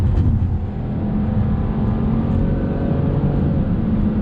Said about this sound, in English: Let's see what acceleration is like on throttle.